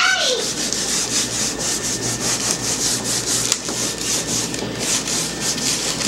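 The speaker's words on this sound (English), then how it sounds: "take my paper towel and just kind of ball it up and flatten out a little piece here, and then just kind of rub it" A balled-up paper towel rubs paint onto a decorative tile in fast, rhythmic back-and-forth strokes, a close, dry scrubbing sound over a faint steady hum, with no speech.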